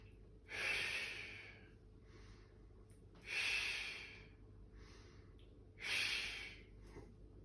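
Three deep, slow breaths in and out while bracing the core during a squat, each a loud airy rush a few seconds apart, close and alone with no talk.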